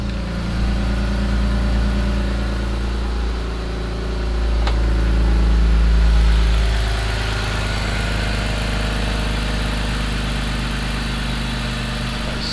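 A BMW E46 330i straight-six idles just after a cold start in a garage, a steady loud low rumble with a brief swell in revs midway, running alone with no talk.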